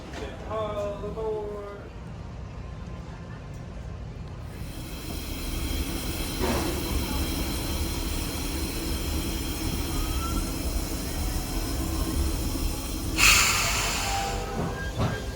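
The Walt Disney World Railroad train at Magic Kingdom rumbles steadily along the track with a continuous low roll and hiss, and a short burst of steam near the end, while a voice talks early on.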